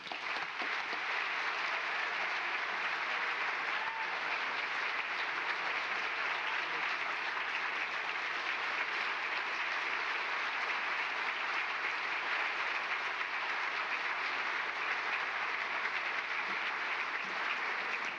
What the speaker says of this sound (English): Another round of applause for Annie.